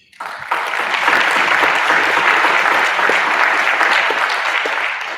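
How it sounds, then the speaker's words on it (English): A community gratitude luncheon crowd breaks into applause, a loud, dense burst of many hands that starts abruptly, holds steady for several seconds, and eases slightly at the end. "a round of applause for those in the community of recovery"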